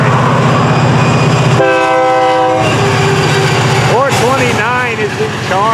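A train rolls past close by with a steady rumble and clatter, then sounds its multi-tone horn in a long blast, followed by shorter bent horn notes as the rolling noise continues.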